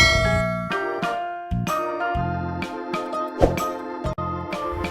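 Short melodic chime sequence of bright bell-like tones, several struck notes ringing in a quick jingling pattern with clear decays, like a notification jingle.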